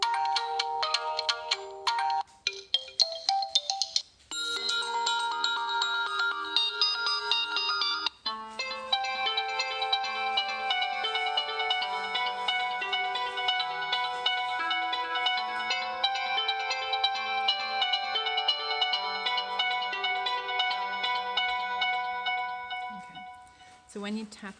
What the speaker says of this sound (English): it gives you an example of what your phone is going to sound like when it rings